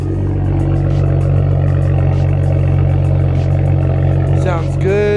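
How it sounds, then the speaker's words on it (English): A BMW 335i engine, just started, idles with a loud, steady low hum and even tone throughout, and a brief higher sweeping whine near the end. "Engine's pretty clean, just started it up."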